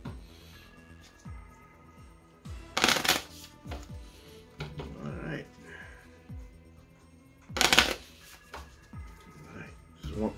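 Playing cards from the Legendary: A James Bond deck-building game being shuffled in two quick, crisp riffling bursts, close by, with a person talking quietly between them.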